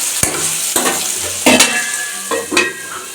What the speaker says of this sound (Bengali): পাঁচ মিনিটের জন্য মিশিয়ে দেব।